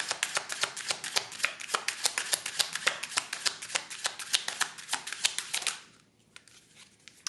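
Tarot cards riffle through a rapid, even shuffle, dozens of crisp flicks close by, stopping abruptly near the end and leaving near silence.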